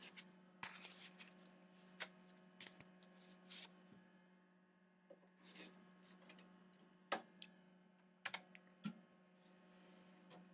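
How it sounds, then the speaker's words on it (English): A floppy disk drive steps its read-write head track by track during an MS-DOS 6.22 upgrade, making faint, irregular dry clicks and ticks over a steady low hum. "the clicking that you're hearing, that's the floppy disk drive stepping the read-write head forward one track at a time"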